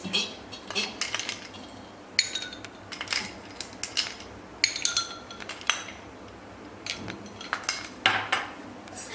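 Ice clinks and clatters into tender coconut sarbath, several sharp glassy knocks spread unevenly over a few seconds, close and moderately loud with a soft room hum underneath.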